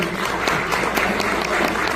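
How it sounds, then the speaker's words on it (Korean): An audience applauds steadily after a poem recitation at a book publication celebration for a professor's seventieth birthday at Hoam Art Hall, Seoul National University, a dense, even patter of many hands close by. "큰 박수로 정말 한 번 무대와 같이 축하해 주세요"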